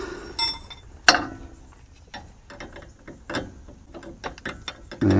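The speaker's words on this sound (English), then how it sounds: "So all I got to do is tighten this nut back up." A ratchet tightens a nut on a Dodge truck's steering linkage during a DIY alignment, with scattered clicks and metallic clatter at close range, a sharp knock near the start and another toward the end.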